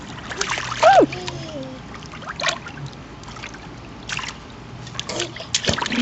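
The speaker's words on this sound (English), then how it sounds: "Do you like to splash?" A child swims and splashes in water, with intermittent splashes and trickles up close, moderately loud, interspersed with an adult's voice and a brief high vocal cry near the start.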